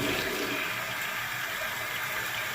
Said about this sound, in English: I gotta keep flushing it.